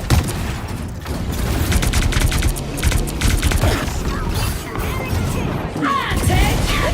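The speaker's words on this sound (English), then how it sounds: "Rockets fire!" Rockets firing in the video game Marvel Rivals, dense rapid bursts and mechanical clatter with crashing impacts throughout, loud and busy, with voices mixed in.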